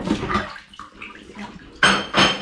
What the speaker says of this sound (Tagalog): Dishwashing.